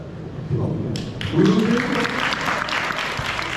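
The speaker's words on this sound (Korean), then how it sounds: "박수 쳐요" A burst of applause from a church congregation, clapping close and fairly loud for a few seconds, with some voices mixed in.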